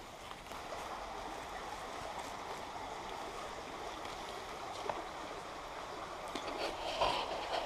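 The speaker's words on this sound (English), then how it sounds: "here, you can hear the river" A stream near Rhos-y-felin flows in a steady, soft broadband rush of water that stays even throughout, heard from nearby at a low level with a few small splashes toward the end and no talking.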